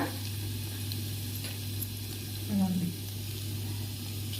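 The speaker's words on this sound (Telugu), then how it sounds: "ఈ తాలింపు వల్ల చారుకి టేస్ట్ వస్తుందండి" A tempering of spices with dried red chillies sizzles softly in a pan for tamarind rasam. The steady, close frying hiss sits over a low electrical hum, with a short louder stir or clatter partway through.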